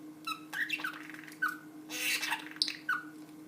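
Male cockatiel parrot screeching loudly indoors, a series of sharp, harsh squawks and chirps in irregular bursts, close to the listener, over a steady low hum.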